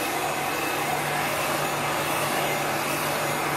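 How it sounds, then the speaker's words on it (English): A heat gun blowing hot air over chalk paste on a transfer, a loud, steady, close whooshing roar with a faint hum, continuous and without talk. "You're constantly moving your heat gun."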